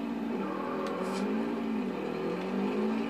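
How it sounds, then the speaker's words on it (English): A car engine in the video game Forza Horizon 2 drones steadily up close, its pitch rising and falling slightly as it revs, with no voices. "the engine sounds absolutely gorgeous in this"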